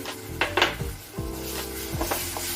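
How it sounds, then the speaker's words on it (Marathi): Homemade spice paste fries in hot oil for spicy misal, a close sizzle broken by several clanks and scrapes of a spoon against the pan. "आता आपण जी पेस्ट केली ती टाकूया."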